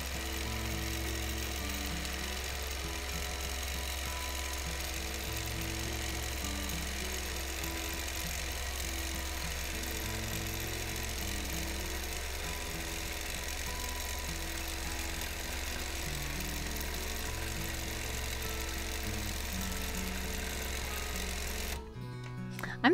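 Sewing machine stitching straight up-and-down lines across a small wholecloth quilt, a steady continuous motor hum with a rhythmic pulsing pattern running throughout, fairly loud and uninterrupted until a brief shift at the very end.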